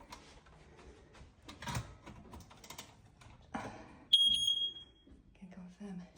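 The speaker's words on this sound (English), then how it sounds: "So I'm testing the smoke alarm." A household smoke alarm being tested gives a loud, piercing electronic beep lasting about a second. Before it come soft clicks and rustling as the test button is reached, and faint speech is heard afterward.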